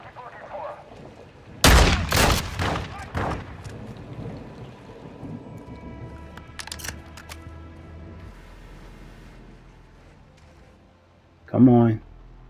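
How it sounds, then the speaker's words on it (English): Gunfire in the Call of Duty: Modern Warfare 2 campaign: a cluster of loud, booming shots rings out early, then scattered quieter pops over ambient noise, and one more heavy blast lands near the end. "I guess let me start shooting their ass."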